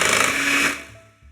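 An electric hand mixer beats almond cake batter with flour just added, a close, loud whirring drone that runs for about a second, then spins down and cuts off.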